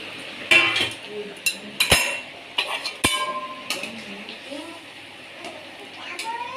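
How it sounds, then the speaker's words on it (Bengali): A metal plate lid comes off a cooking pot of curry simmering on a low gas flame, giving a few sharp clinks and clatters close by, with soft background noise and little talk. "দেখো এবার থালাটা খুলছি বন্ধুরা।"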